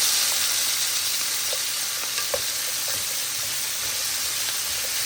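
Cabbage and sausage sizzling and frying in a pan on medium heat, a dense steady hiss with occasional scraping clicks of a utensil stirring through it, close and continuous with no talking.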